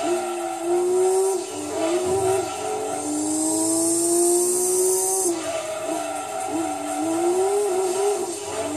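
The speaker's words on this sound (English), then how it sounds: "You get such a unique engine noise as well" High-revving race car engines from Gran Turismo 2 during the Seattle 100 Mile Endurance, a steady loud whine with pitch rising and dipping through gear changes, several cars overlapping with a bright hiss over the middle stretch.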